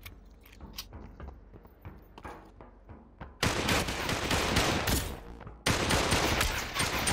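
Gunfire in the VR battle royale game Population One: quiet movement at first, then two long bursts of dense rapid shots, loud and close, with a brief gap between them.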